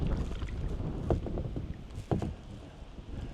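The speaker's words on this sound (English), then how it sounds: "We're paddling a couple of my brother's kayaks" Kayaks without rudders are paddled on open water, with soft irregular splashes and paddle dips over light wind noise, close and fairly quiet.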